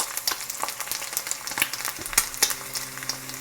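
An egg fries in a pan with a steady crackle of sizzling fat and sharp pops and spits all through, close and fairly loud with no talking.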